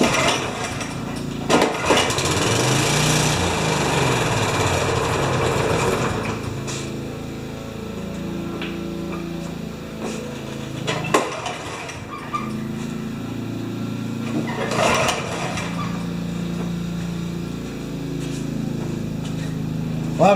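A Honda HRA214 lawn mower with a running fault runs its small engine, rough and uneven, loud at first then dropping and surging again, with sharp knocks and handling noises mixed in.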